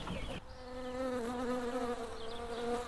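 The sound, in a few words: bees buzzing on a farm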